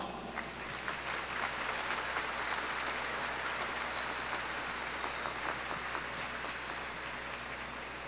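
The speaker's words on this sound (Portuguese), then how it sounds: "peço que o nosso povo acolha todos com uma grande salva de palmas." A large crowd in a stadium at the opening of a national Eucharistic congress gives sustained applause to welcome priests and deacons, a dense, even roar of clapping that continues steadily throughout.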